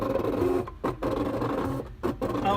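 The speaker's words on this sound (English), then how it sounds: "it says it's cutting, and our machine does all the work from there" A Cricut Expression cutting machine cuts embellishments with a steady mechanical whirring and buzzing, its motor hum broken by short pauses and brief clicks as the carriage shifts direction.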